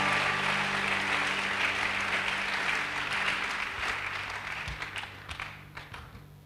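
A church congregation applauds together in a dense, steady wash of clapping that holds strong for several seconds, then gradually thins and fades toward the end.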